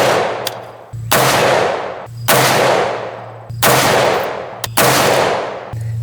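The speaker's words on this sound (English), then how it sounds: "77 grain Sierra Match Kings out of the 20-inch AR, unsuppressed" Five loud, close shots from an unsuppressed 20-inch AR-15 Bushmaster rifle firing 77 grain Sierra Match King rounds, spaced about a second apart, each a sharp crack with a long decaying echo.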